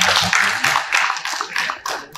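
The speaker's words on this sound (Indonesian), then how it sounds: "Mari kita berikan aplaus." Applause from an audience at an installation ceremony for a hydraulic engineering association's West Papua branch, a close, dense patter of many hands clapping steadily throughout.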